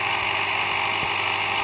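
A video game scooter engine hums steadily at a constant pitch, a continuous buzzing drone with no variation.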